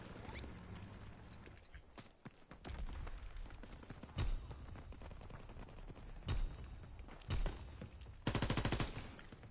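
Gunfire in the Call of Duty WW2 video game: sharp, loud shots and short bursts scattered over the stretch, ending in a rapid automatic volley, over constant battlefield noise and with no talking.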